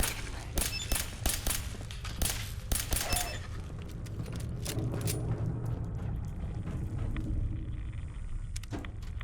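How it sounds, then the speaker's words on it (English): Combat gunfire in Fallout 4 crackles in quick bursts of sharp shots for the first few seconds, then thins into scattered, more distant pops over a steady rumbling background. "We appear to be under fire."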